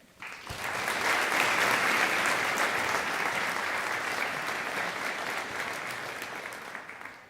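Audience applause at a pharmacy and allied health college fall convocation, sustained steady clapping from a large crowd that starts sharply and holds for several seconds before slowly thinning.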